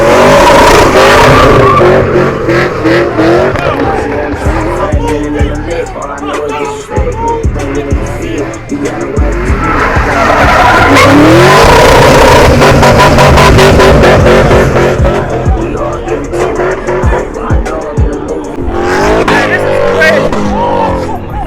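A Dodge Charger Hellcat drifts with a roaring, revving engine and squealing tires, very loud and continuous, with swells as the throttle rises and falls, while people talk and shout over it.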